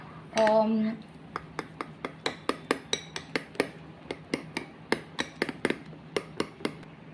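Spoon clinking repeatedly against a bowl while dhokla batter is stirred with Eno, bright metallic taps in an uneven quick rhythm after a short voice at the start, close and fairly quiet.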